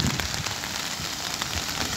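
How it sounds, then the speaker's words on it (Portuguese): Steady rain falling outdoors on an afternoon outing, a continuous dense hiss with scattered drops, fairly close and even throughout, with no speech. "Ah, chuvinha abençoada, mano."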